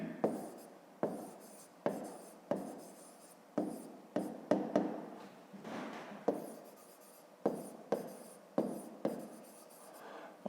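Pen or pencil writing by hand on paper during a fifth-grade math exercise, a series of close scratchy strokes in short bursts with brief pauses, heard alone.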